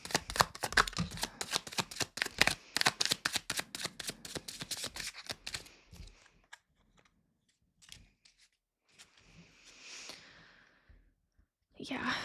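Tarot cards shuffled and pulled by hand, with a rapid, dense run of riffling and flicking for about five seconds, then sparser, softer card handling and a brief rustle near the end.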